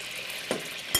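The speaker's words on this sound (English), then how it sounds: "So I have some boiling water here." A pot of salted water at a rolling boil for pasta bubbles and hisses steadily and close by, with a couple of brief pops and clinks, and no talking.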